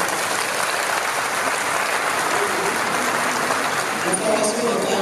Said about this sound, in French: je souhaiterais que vous les applaudissiez,